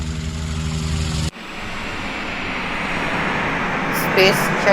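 A drone's motors give a steady tonal buzz for just over a second, then shift into a sustained, airy rushing whir that holds at an even level.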